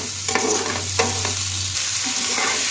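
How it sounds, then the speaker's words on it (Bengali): Chopped onions and cumin fry in a wok, making a steady, close sizzle with a few soft stirring knocks and a low hum running underneath. "এই কড়াইতে একটু জিরে ফোড়ন দিয়ে দিয়ে দিলাম পেঁয়াজ কুচিগুলি একটু ভালো করে ফ্রাই করব"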